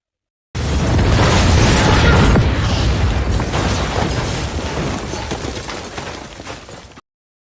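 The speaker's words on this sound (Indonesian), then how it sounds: "Bom yang tersembunyi di mobilnya mulai menyala. Ledakan besar pun terjadi." Large car bomb detonating in a film, a loud sustained blast that swells quickly and rumbles on for about six seconds before cutting off.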